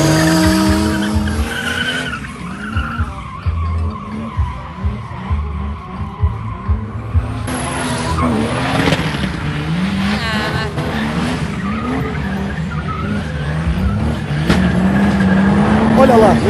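A car drifts in circles around a parked BMW with loud, sustained tire squeal and skidding over revving engine bursts, while people shout and talk excitedly nearby.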